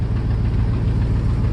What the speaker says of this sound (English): It's got a little bit of an exhaust leak on the right side.